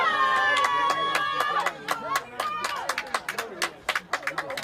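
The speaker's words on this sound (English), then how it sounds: "you can hear the very enthusiastic Bobcats crowd" Enthusiastic home crowd at a Bobcats soccer match, a US Open Cup qualifier, cheering and whooping with sustained voices, then breaking into scattered claps and shouts, fairly near and loud throughout.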